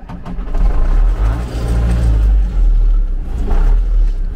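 A farm tractor's diesel engine turns over and catches, then runs with a loud, rough low rumble that rises and dips as the throttle is blipped, close to the listener.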